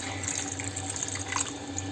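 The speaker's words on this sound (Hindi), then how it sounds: "तब ये मैं डालूँ चरोहन पानी ला, चावल वाले जो धो के रखे रहे तेन पानी ला" Rice-washing water is poured into a pan of cooking vegetables, a steady close splashing trickle with light bubbling, continuous and fairly quiet, with no one talking.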